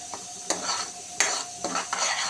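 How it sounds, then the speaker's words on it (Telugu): Curry masala for a biryani curry is stirred and fried in a pan, a close sizzle punctuated by several scraping, clinking spoon strokes against the pan, with no voices. "మనం ఇలా పెట్టుకొని ఫ్రై చేస్తూనే ఉండాలి"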